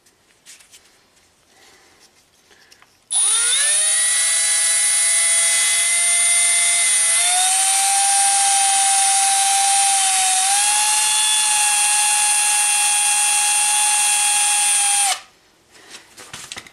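A power drill whines steadily for about twelve seconds, loud and close, its pitch shifting slightly as it runs, with quiet room noise before and after.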